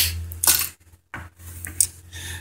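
A connector being torn off a hard drive during magnet recovery makes a short plastic snap and clatter, a couple of sharp close clicks separated by a brief silence.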